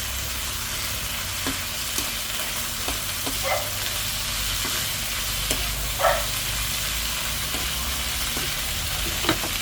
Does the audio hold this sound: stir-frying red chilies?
yes